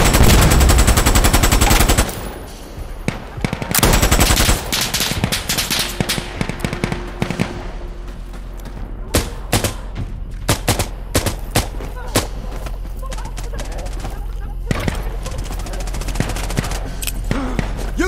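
An M60 machine gun fires in Insurgency: Sandstorm in a long, loud, rapid burst, then shorter bursts and scattered distant gunfire continue through the fight.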